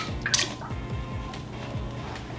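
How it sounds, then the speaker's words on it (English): Lactic acid drips into brewing mash water as a few small, quick liquid drips and plinks over a low, steady background. The sounds are close and soft, with no talking. "I'm also going to adjust for my mash pH by putting in 4 milliliters of lactic acid"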